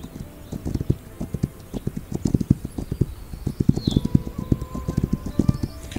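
Rapid, rhythmic hoofbeats of a galloping horse in a video game thud steadily throughout, close and clear, with faint ambient chirps behind.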